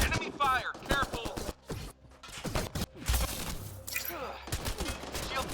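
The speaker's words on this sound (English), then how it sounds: "Enemy fire!" Enemy gunfire in the Mass Effect: Andromeda video game, with sharp bursts of shots crackling in quick, irregular volleys mixed with shouted voices and battle chatter.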